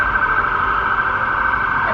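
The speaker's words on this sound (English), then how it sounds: "Here comes another fire truck, or" A fire truck, ambulance or police car siren sounds as one steady, sustained tone over low traffic rumble, fairly loud throughout.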